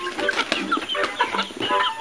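Chickens cluck continuously while grazing on young grass, with several birds making short, overlapping clucks and calls close by at a steady, busy rhythm.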